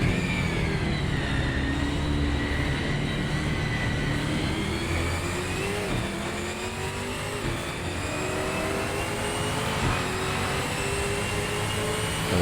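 Several touring cars, including a VR VS Commodore, a BMW and older Group A and Group C cars, race around the 1976 Bathurst layout in a racing game. Their loud, sustained engines rev and drone together, pitches rising and falling steadily throughout.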